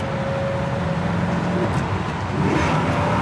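Inside a moving unrestored 1967 Chevrolet Impala SS 396 at highway speed, the big-block engine gives a loud, steady drone with road rumble. There is a slight rise in pitch near the end and no talk.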